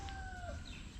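Chickens at a rural home make a short, quiet call over a steady outdoor hum, with a faint drawn-out note and no talking.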